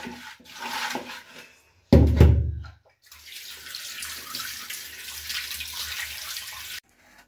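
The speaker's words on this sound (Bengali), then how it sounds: "এইগুলো ধুয়ে নিই ভালো করে, ধুয়ে নিয়ে তারপরে আবার এগুলো লবণ দিয়ে দেবো" Chopped fish heads are rinsed under running water: a tap gushes loudly and steadily at close range, broken by a short heavy splash and a brief pause, then flows on evenly before stopping abruptly.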